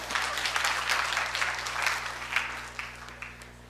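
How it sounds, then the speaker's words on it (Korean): A church congregation applauding in a hall, a dense burst of clapping from many people that swells and then gradually fades, with a low hum underneath. "박수 주세요."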